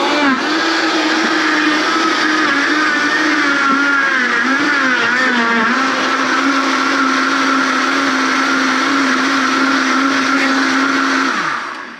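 A blender whirs loudly and steadily for about twelve seconds as it purees watermelon into juice, its motor pitch wobbling briefly as the fruit breaks down, then cutting off at the end.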